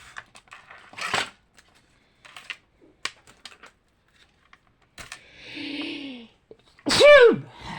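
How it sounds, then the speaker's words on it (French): A single sneeze bursts out close and loud near the end, preceded by a quiet breathy inhale and scattered soft tapping and rustling sounds. "Je crois que je vais éternuer."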